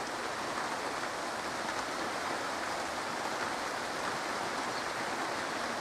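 Steady rain falls over an allotment garden plot in late July, a dense, even hiss of drops on leaves and surfaces that holds constant and fairly close throughout, with no voices.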